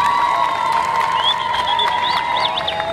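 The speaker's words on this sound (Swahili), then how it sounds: "Mpigeni makofi afande." A crowd cheers and applauds for a police officer at a political rally, loud continuous clapping mixed with shouts and high whoops throughout.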